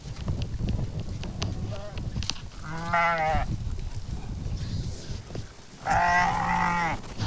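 Two loud, wavering bleats from a pregnant sheep being given an HS injection ring out a few seconds apart over a steady outdoor background with some indistinct activity.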